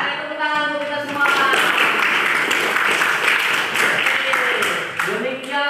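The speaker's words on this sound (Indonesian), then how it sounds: "Oke, tepuk tangan untuk kita semua." A class of eighth-grade students applauds together in a school classroom, a steady, dense burst of clapping that holds for several seconds, with children's voices mixed in.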